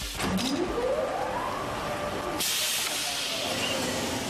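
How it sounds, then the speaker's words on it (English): A bicycle tyre vulcanization machine heating tyres to 180 degrees Celsius gives off a steady loud hiss of steam, which jumps to a brighter, harsher burst partway through and then holds on. "The combined elements are loaded into a machine that heats them up to 180 degrees Celsius for 3 minutes."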